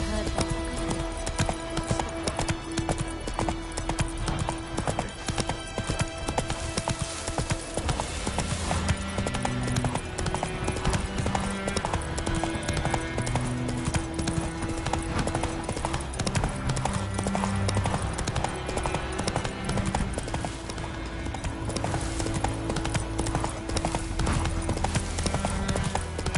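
In The Witcher 3, the horse Roach gallops with a steady, rhythmic clatter of hooves, loud and close, over a dense bed of game music and ambience.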